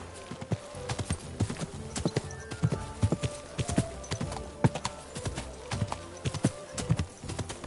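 Steady clip-clop of horse hooves in the video game Kingdom Come: Deliverance 2, a quick rhythmic patter of hoofbeats close by, continuous throughout with light background ambience.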